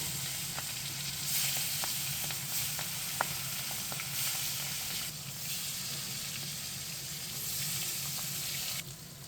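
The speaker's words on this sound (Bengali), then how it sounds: "তেলটা গরম হয়ে গেছে এখন আমি মাছগুলো ভেজে নেবো" Fish frying in hot mustard oil in a pan on a gas stove, a steady close sizzle with scattered crackles and spits running throughout, briefly easing near the end, with no talking.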